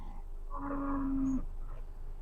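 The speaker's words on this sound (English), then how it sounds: "As you can see a random cow just walking down the street." A lowing cow call used as a sound effect in a tabletop role-playing session, a single sustained moo of about a second over a steady low background hum.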